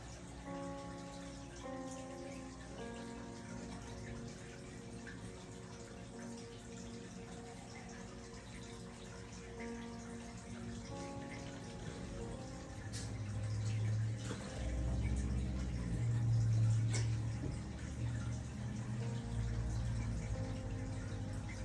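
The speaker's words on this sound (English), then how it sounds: "Now I'm going to get ready to fill the glasses with water." Water is poured into glasses for a Dollar Tree floral centerpiece, a soft splashing flow that swells in the second half under continuous background music.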